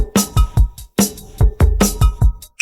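A dry drum pattern plays alone, with punchy kick and snare hits in a steady, sparse rhythm and brief gaps between strikes.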